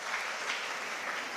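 Steady audience applause at an award or certificate ceremony, a dense wash of many hands clapping at moderate distance, even and sustained with no talk over it.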